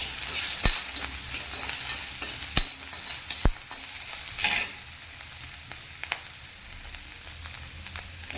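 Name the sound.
coconut sautéing in a pan for pirandai chutney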